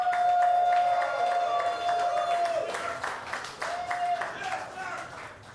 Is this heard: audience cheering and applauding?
yes